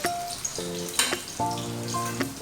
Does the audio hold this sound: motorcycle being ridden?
no